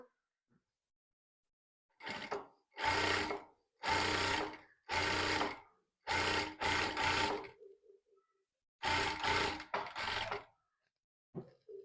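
Sewing machine stitching an invisible zipper, running in several loud, close bursts of steady whirring separated by short pauses, with no talk.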